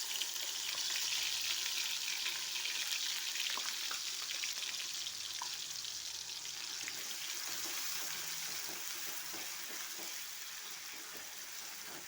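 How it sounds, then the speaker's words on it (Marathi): Masala roasts in hot oil for a village-style egg curry, a loud continuous sizzle and hiss with faint stirring scrapes that eases slightly over time. "मसाला तेलात टाकल्यानंतर छान असा भाजून घ्यायचा"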